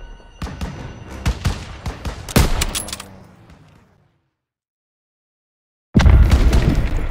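Rapid bursts of gunfire and heavy booms from Call of Duty WWII, loud and close, rattling for several seconds before fading into a short silence, then another dense volley erupts.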